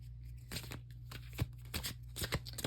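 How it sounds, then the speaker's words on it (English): A Cosmic Slumber tarot deck is shuffled by hand, giving quiet, close riffling bursts and soft card slaps in an uneven rhythm over a low background hum. "I'm going to use this deck, Cosmic Slumber deck. Let me try and shuffle it first a little bit."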